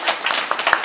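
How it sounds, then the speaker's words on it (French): Audience clapping at a convention signing ceremony, a short burst of several quick, fairly close hand claps. "Acclamez-vous encore."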